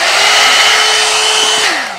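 A handheld one-step hair dryer and styler blowing on its low setting gives a loud, steady close whir with a constant motor tone that drops in pitch as it winds down at the end.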